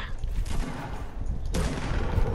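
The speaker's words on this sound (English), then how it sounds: "it's a freaking shotgun." Shotgun fire in a video game, a close, dense burst of booming shots with heavy low rumble, swelling again near the end amid continuous battle noise.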